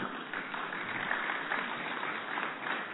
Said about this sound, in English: Put your hands together for the Mercedes-Benz A-Class